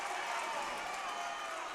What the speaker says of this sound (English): Crowd goes wild here, but it will not count.